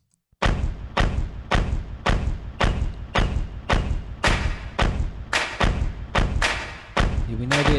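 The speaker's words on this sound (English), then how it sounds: "They would refer to that as an 808 from the TR-808 drum machine by Roland." Isolated drum stem from a pop song, built on a Roland TR-808 drum machine, with heavy booming kick-and-clap hits repeating in a steady stomping beat, loud and close.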